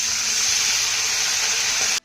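Half a cup of water hits a hot tempering of spices in a pan and gives a steady, loud hiss and sizzle for about two seconds, then cuts off abruptly.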